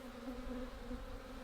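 Honey bees buzzing at an open hive during a spring inspection, a steady close drone with a low hum and a faint higher overtone, with no voices.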